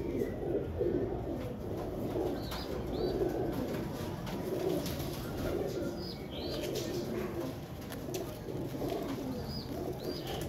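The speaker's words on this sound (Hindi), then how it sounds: "ये बड़ा कबूतर है और अच्छा कबूतर" Soft, repeated coos from a large, 7-8-year-old breeder pigeon rise over a low, busy background murmur, several short calls spaced through the clip.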